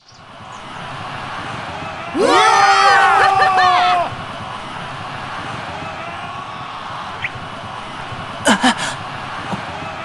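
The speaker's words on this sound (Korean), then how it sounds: "엄청난 함성 소리." Steady crowd roar fills the air, swelling with a burst of high whooping cheers early on, then settling back to a constant wash of noise with a few brief shrieks later.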